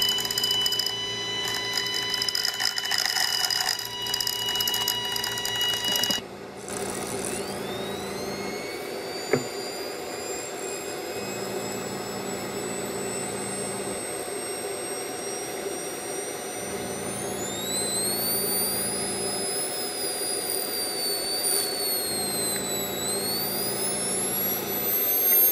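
A 1-inch neodymium sphere magnet spinning on an air bearing driven by a coil, a steady high whine with tones that rise in pitch as it spins up, over a constant hum with a brief click and gap.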